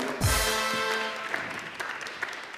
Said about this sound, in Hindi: तालियां भाई के लिए।